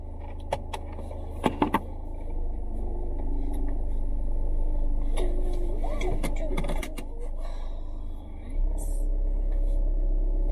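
A car interior on a gloomy day holds a steady low engine rumble throughout, with a few light clicks and jangles early on and a brief shift in tone near the end; a voice talks faintly under the rumble.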